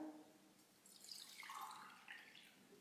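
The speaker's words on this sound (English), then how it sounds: "In goes my water." Water poured into a small container for a nasal rinse, a faint trickling, gurgling stream that rises in pitch as it fills, close and quiet with no talking.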